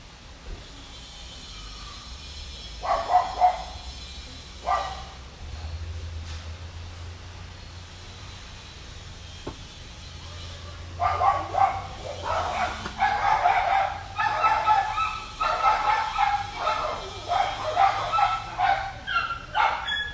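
Dogs barking during a yoga session, scattered yips and barks early on, then a sustained burst of repeated barking in the second half, fairly close and loud over a low background hum.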